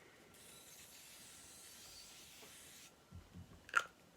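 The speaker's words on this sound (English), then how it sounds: "we'll use the Beauty Bakery Sweet Grace Baking Spray Setting Spray." Beauty Bakery Sweet Grace Baking Spray setting spray misted from its bottle, a steady airy hiss lasting a couple of seconds, followed by a few soft handling clicks and taps.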